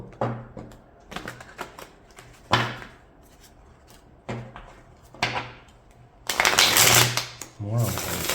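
Tarot cards are handled in a few quick, papery bursts, followed by a longer, louder riffling shuffle near the end, all heard close by.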